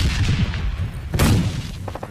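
Grenade blast in the mobile battle-royale game PUBG Mobile Lite: a sudden broadband boom around the middle, standing out from a dense rumbling bed of game noise with scattered thuds before and after.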